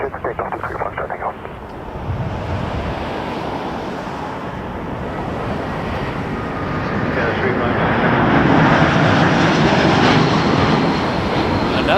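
A jet airliner takes off from runway 23 at Toronto Pearson airport, its broad roar swelling steadily louder over the whole stretch while radio chatter runs underneath.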